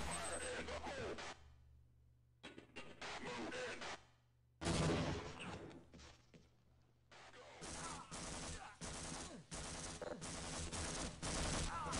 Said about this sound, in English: Oh, they're shooting scientists.